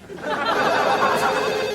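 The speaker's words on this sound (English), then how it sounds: "Pick up the phone." A telephone rings steadily from a sitcom apartment scene, a bright continuous electronic trill filling the short stretch at an even, fairly loud level.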